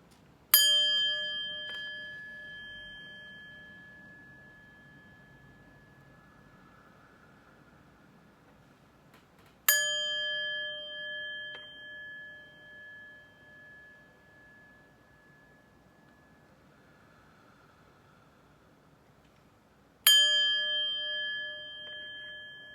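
A resonant chime is struck three times, roughly ten seconds apart. Each strike rings out clear and bright, then fades slowly into silence, with no voices.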